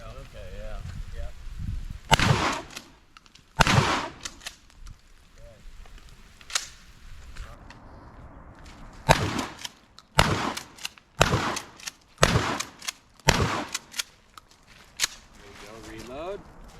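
A Mossberg 590 pump shotgun fires about a dozen sharp, loud blasts at irregular intervals, with quiet gaps between shots and occasional talk in between.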